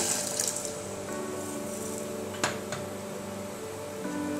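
Water pours steadily into a pan holding sugar for syrup, a soft continuous splashing close by with one brief knock partway through and no talking.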